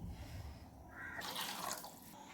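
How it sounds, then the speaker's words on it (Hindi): Water poured into a batter of kadhi, a yogurt curry, in a home kitchen, a steady faint trickle and splash running for about a second before fading, with no voices. "इसमें हम और पानी डालेंगे"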